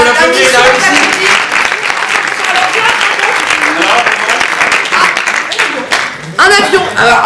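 Loud, close applause fills a book fair room, with dense clapping from many people continuing under occasional voices and fading briefly before picking up again.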